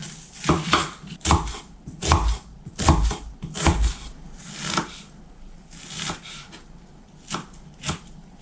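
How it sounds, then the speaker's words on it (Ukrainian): A knife dices onions on a cutting board, about a dozen sharp, close taps in an uneven rhythm with no talking. "Дві цибулі, таких середніх, нарізаю на невеличкий кубик."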